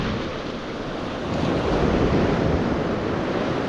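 Ocean surf washes steadily onto a sunny beach where people are out shelling, a continuous broadband roar that swells slightly after the first second, with some wind noise on the microphone and no voices.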